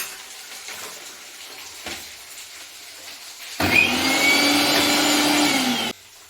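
An electric mixer grinder runs on a spoonful of poppy seeds. It gives a loud, close, steady whirring roar for about two seconds, then cuts off abruptly after a quieter lead-in.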